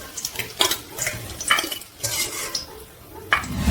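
Fried eggs being lifted out of a pan onto a plate, with metal utensils scraping and clinking against cookware in several short, close knocks and a faint sizzle beneath.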